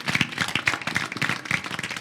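An audience claps for a guest of honor, Monsieur Kaba, at a televised celebration, the dense, steady patter of many hands filling two seconds without a break.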